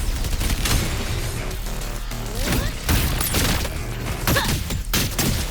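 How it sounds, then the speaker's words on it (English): Fireworks burst in the video game Wuthering Waves as a dense, loud barrage of booms and crackling blasts that rolls on continuously, with a few sharper whistling streaks among the explosions. "Get ready for fireworks!"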